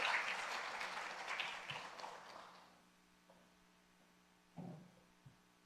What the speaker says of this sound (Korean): 큰 박수 감사합니다